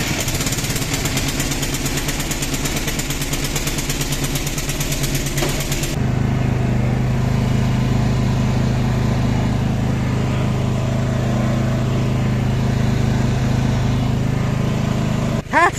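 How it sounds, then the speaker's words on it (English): A petrol mini tractor engine runs steadily and loudly up close, with fast rhythmic chugging at first, then a deeper constant rumble as it keeps going. "we managed to get this mini tractor working"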